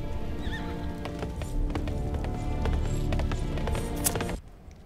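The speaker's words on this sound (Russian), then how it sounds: "Лошадки, давайте, вперед, поехали." Horse hooves clip-clopping in a Chronicles of Narnia Prince Caspian video game, a steady run of close hoof beats with a whinny and game ambience, cutting off sharply near the end.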